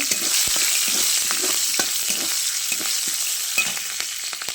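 Green chillies frying in hot oil in a pan, giving a steady loud sizzle with scattered crackles and pops throughout, no voices.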